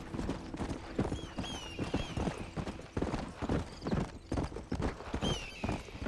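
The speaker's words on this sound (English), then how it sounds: "Good horse. Jumps our fences instead of breaking them." Horse hooves clip-clop steadily at a trot in the Red Dead Redemption video game, with a few neighs and whinnies rising over the hoofbeats and faint background ambience.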